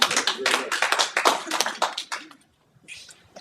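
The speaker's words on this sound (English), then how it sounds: "Ron and I want to give you a little applause" A small group claps at a press conference about Cooper Tire staying in Tupelo: close, uneven hand claps that thin out and stop after about two seconds, followed by quiet.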